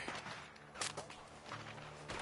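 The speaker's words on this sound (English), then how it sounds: "The gunshot." Gunfire in the Red Dead Redemption 2 video game, a few sharp shots over a busy, noisy background with no clear talk.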